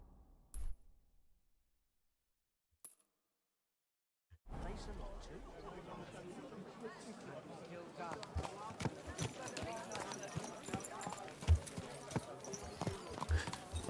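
Horse hooves clip-clopping in the video game Kingdom Come Deliverance 2, a steady rhythmic trot that starts after a near-silent gap and carries on amid town chatter and background voices.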